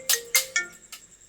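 Phone ringtone sounding during a call, a quick series of four bright electronic tones, the last one softer, close and clear in an otherwise quiet room.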